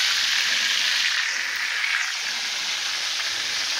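Chicken frying in oil on a stovetop, a steady close bright sizzle and crackle running continuously without a break and with no talking.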